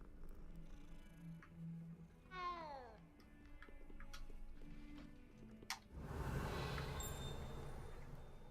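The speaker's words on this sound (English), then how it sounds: "I can pet a cat!" In the video game Hogwarts Legacy, a cat is petted and gives a low, soft purr with a drawn-out meow partway through, followed by a rougher, louder purring rumble, all fairly faint over the game's ambient sound.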